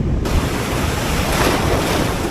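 Rough sea surf breaking on a beach at Kannur on the Kerala coast, a continuous loud wash of crashing waves with wind buffeting the microphone, no voices.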